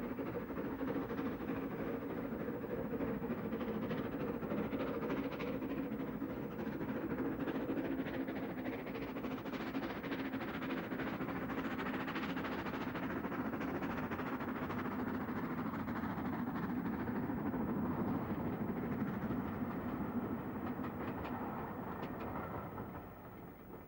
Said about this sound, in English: This goods train illustrates the engine's real role.